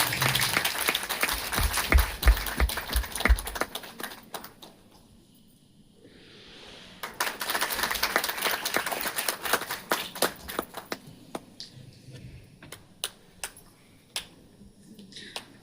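Audience applause at a Sakha Trust event in Dehradun: a dense round of clapping fades to a brief lull, swells again into sharp, close hand claps, then tapers into sporadic individual claps.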